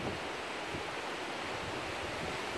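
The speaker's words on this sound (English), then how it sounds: "Those waves knock you over, knock you right into that wall." Ocean waves surging against a wall, heard as a steady broadband wash of surf mixed with wind noise, moderately distant and unbroken with no talk.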